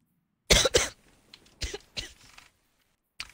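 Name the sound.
person coughing and choking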